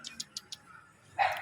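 Dogs near a wall give four quick, evenly spaced sharp yips, then a louder bark after a short pause, heard close by.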